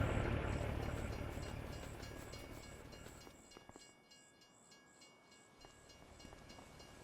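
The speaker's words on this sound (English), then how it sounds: "There's the train right there." A train rolls past in the video game Farming Simulator 25, its wheels clicking in a steady rhythm over a broad rumble that fades partway through and leaves a quieter run of clacks.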